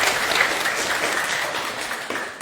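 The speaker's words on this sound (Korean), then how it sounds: "박수 한번 주세요" Audience applause at a Korean Buddhist lecture, dense, even clapping from a sizeable crowd, sustained and loud without a break.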